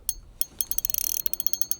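Shimano Vanford spinning reel cranked by hand, giving a rapid run of close, crisp ratcheting clicks with a light, plasticky gear whir, speeding up through the middle of the turn.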